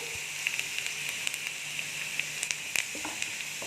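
Garlic sautéing in oil in a pan gives a soft, continuous frying sizzle with occasional small crackles and pops, fairly quiet and alone.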